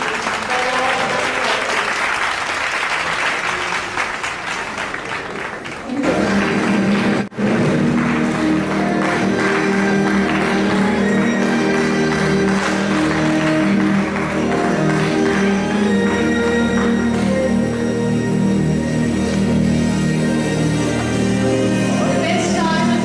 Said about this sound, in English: All are requested to please raise this evening by loud applause.